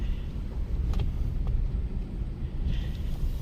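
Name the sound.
2017 Ford Edge 2.0L Ecoboost driving out of parking spot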